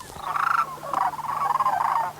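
Sandhill cranes wintering at Willcox calling close by, a few loud rolling, trumpeting bugles in quick succession over a faint steady hum.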